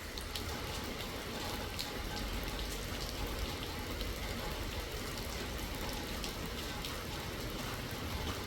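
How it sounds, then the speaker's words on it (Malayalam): Steady rain falls over a village worksite where gravel is being laid, a continuous dense hiss of drops on surfaces that holds an even level throughout, with no voices over it. "വീണ്ടും മഴ, രണ്ടാമത്തെ റൗണ്ട് മഴയാണ്."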